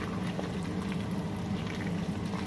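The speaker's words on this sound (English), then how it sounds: "We just want it to simmer for about 20 minutes, and you can stir it occasionally" A pot of liquid with bay leaves simmers on a stovetop, giving a steady, soft, continuous bubbling and hiss with a low rumble underneath and no voices.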